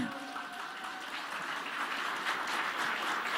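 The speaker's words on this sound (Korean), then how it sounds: "Aren't you going to clap?" Steady applause from a lecture audience, a dense wash of many hands clapping at even loudness throughout, with faint voices underneath.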